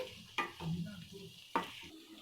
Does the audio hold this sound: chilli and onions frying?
yes